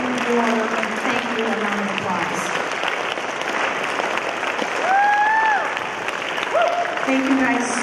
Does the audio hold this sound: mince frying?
no